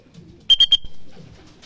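Racing pigeons arrive at a loft during a 94 km training flight in Lumban, Laguna: three quick, loud wing-clap or call bursts close by over a quiet outdoor background.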